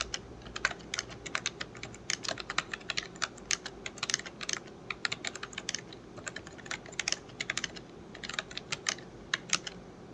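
Fingers type quickly on a computer keyboard during a timed typing test, giving a steady stream of close, crisp key clicks with irregular rhythm and brief pauses, no talking.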